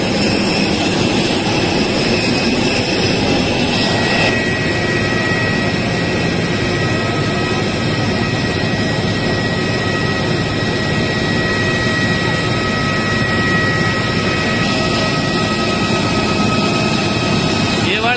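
After a passenger flight lands in Hyderabad, the airliner's jet engines keep running with a loud, steady roar and a high tonal whine, heard from inside the cabin, with occasional voices beneath.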